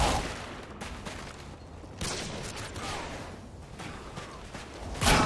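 UMP submachine gun fire in Call of Duty: Modern Warfare 2 online play, bursts of rapid shots against a busy background of distant gunfire and movement, fairly quiet overall.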